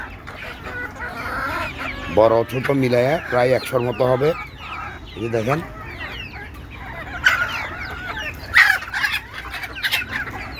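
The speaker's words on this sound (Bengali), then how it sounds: "এই যে দেখেন আমার দেশি মুরগি এখানে" Local Bengali free-range chickens, including young chicks, cluck and chatter nearby in bursts, with harmonic calls standing out, while someone talks over them.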